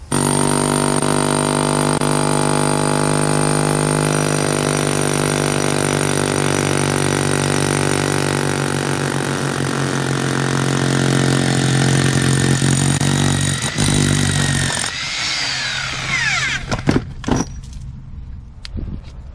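A loud, steady drilling drone grinds on for about fifteen seconds with a 1.5-inch diamond core bit cutting a 2-inch hole, then winds down, followed by a few clanks.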